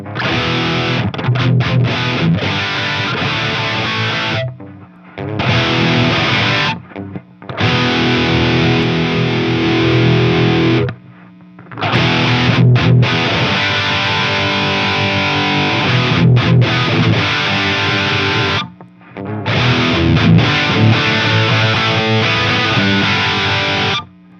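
A loud, heavily distorted electric guitar, run through a pedal board with a high-pass filter and distortion, plays in sustained bursts, broken by a few short pauses.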